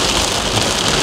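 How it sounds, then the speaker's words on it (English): Heavy rain pours down outdoors, a loud, dense and continuous hiss of drops hitting surfaces with no talking over it. "it's raining like, look at this."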